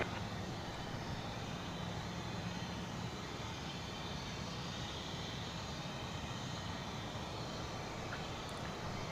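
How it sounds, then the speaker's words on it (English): At DFW Airport, a plane crosses the runways, its engine a steady, continuous broadband roar heard from a distance and holding level throughout. "So a plane flying right across the runways here."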